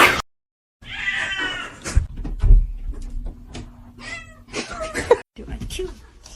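A young kitten meows several times in short, bright cries, some stretched into a whiny wail, heard close by indoors. Brief gaps fall between calls, and a faint thump and light household noise sit under them.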